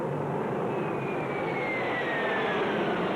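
An airplane during landing flight tests, a steady jet engine roar with a thin whine slowly falling in pitch, loud and constant throughout.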